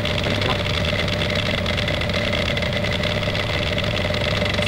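A boat engine idles steadily just after startup, a constant mid-pitched rumble with a faint tonal whine running evenly and fairly loud throughout, with no talk.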